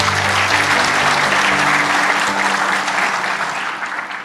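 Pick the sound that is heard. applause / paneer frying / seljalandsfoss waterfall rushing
applause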